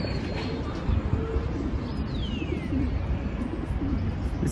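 A pigeon gives soft, low coos close by over a steady rustling background noise, with a faint higher bird call now and then.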